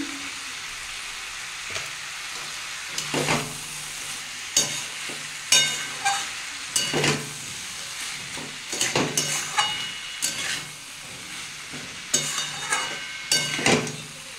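Fish head with cumin, sugar and salt is stir-fried in a pan: a steady close sizzle broken by repeated sharp spatula scrapes at an uneven rhythm.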